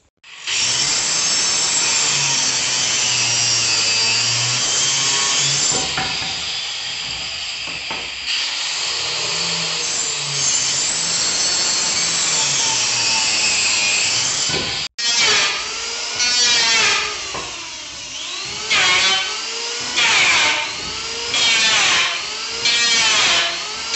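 A power saw cuts small wooden strips for joining boards on a handmade old-style wooden window, with a long, steady, loud hissing whine followed by a series of shorter, choppy cutting bursts.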